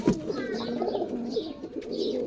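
Giribaz pigeons at a Rajshahi pigeon market coo in low, throaty rolling calls close by, with market bustle behind them.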